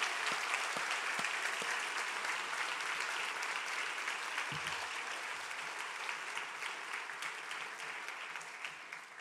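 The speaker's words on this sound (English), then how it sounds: "You can clap now." A graduation ceremony audience applauds in a hall, dense sustained clapping from many hands that holds steady, then slowly fades toward the end.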